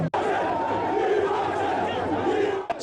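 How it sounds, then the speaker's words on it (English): A dense crowd at an NPP political rally roars and chants continuously, many voices blending into one loud, sustained wall of shouting that cuts off sharply near the end. "shouts of "Yesism, change is coming" filled the air as the crowd started moving towards flag bearer of the NPP"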